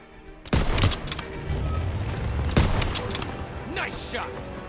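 Rapid gunfire in a Call of Duty WWII battle: sharp bursts of shots crack out over a steady roar of combat, with a whizzing sweep near the end, loud and close throughout.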